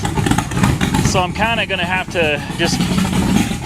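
Loud T-bucket hot rod engine running close by, a rough throbbing idle with a brief revving swell, with someone talking over it.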